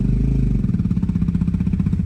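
A motorcycle engine pulling through loose sand, a near mid-pitched throb with rapid rhythmic pulsing as the rider keeps momentum, steady and moderately loud with no talk over it.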